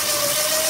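An electric motor on a homemade chopper-style pipe-frame bike runs steadily under throttle with a continuous hum and a sustained tonal whine, close and fairly loud, over a very short stretch.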